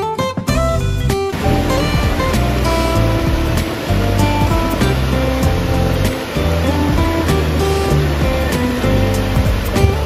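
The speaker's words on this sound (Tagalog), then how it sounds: "medyo may kalakasan ng agos ng tubig" A strong river current rushes steadily at Labi River in Nueva Ecija, a loud, continuous broadband wash of flowing water close by with no break throughout.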